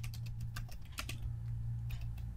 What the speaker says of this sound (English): Go to insert text box, and I'm just going to type